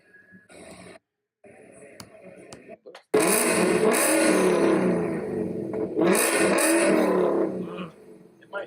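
A supercharged 5.0 V8 car engine revs hard and loud, with a couple of rising and falling surges after a quieter start broken by brief gaps, and voices talking over the opening.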